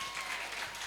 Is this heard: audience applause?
yes